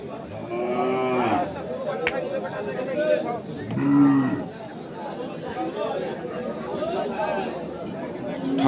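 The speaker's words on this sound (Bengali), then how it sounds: "জাবরের হাটে যে গরুগুলো প্রায় বিক্রয় করা হচ্ছে" Local-breed cattle and bulls moo repeatedly, loud and close, over a steady background of crowd chatter and voices at a busy outdoor livestock market in Pirganj, Thakurgaon, Bangladesh.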